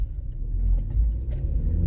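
Peak-hour road traffic rumbles around a 2024 Volkswagen Polo Vivo, a low, continuous drone of passing cars heard from inside the vehicle.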